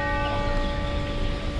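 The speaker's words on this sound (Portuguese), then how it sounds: "já está tocando o sino aqui para as rezas" A church bell at the Basilica of Nazaré rings out for prayers, a loud sustained metallic tone with lingering harmonics that carries steadily before cutting off abruptly.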